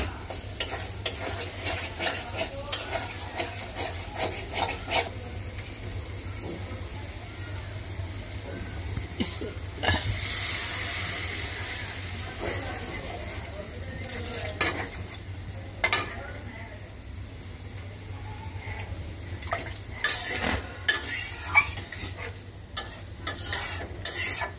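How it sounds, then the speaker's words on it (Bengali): Okra frying and being stirred in a home pan, a steady sizzle broken by frequent sharp scrapes and clinks of a utensil against the metal, with a voice heard faintly in the background. "দেখো ঢেঁড়স ভাজি হয়ে গেছে"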